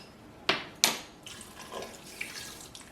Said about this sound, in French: on va venir du coup, hop, le verser donc dans la cuve